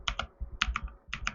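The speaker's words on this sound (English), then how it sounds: "I got a mechanical keyboard, so it makes these little clicks when I type." Mechanical keyboard typing close up, a quick run of crisp clicky keystrokes in uneven bursts, with no talk.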